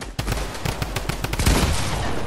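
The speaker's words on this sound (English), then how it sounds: "They just shot each other out." Rapid bursts of video game gunfire crackle through a firefight, a quick run of sharp shots followed by a denser, louder volley near the end, with no talking.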